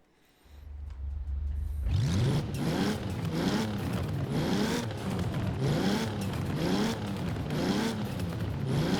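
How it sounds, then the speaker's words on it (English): Toyota Supra MK3 (A70) in Forza Horizon, a turbocharged engine making about 206 horsepower on 11 pounds of boost, revving up from idle and then cycling through repeated loud rises and falls in steady waves, with no talk. "hey, this engine sounds not very fun"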